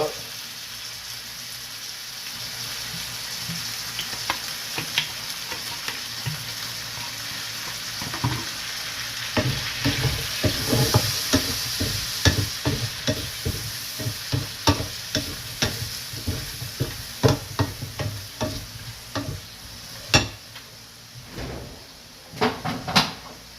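Chicken fries in a pan as soy sauce goes in, giving a steady sizzle broken by many sharp clacks and scrapes of stirring that grow busier over time, with a little talk in places.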